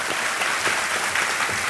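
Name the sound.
studio audience applause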